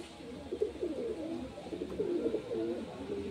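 Pigeon in a loft cooing repeatedly in soft, low, rolling phrases while it is being caught, fairly close but quiet, with no talk.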